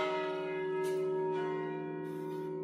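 Tuned church bells from an 1867 church, maintained by the McShane Bell Company, ringing with a rich sustained hum of overlapping tones, soft and somewhat distant.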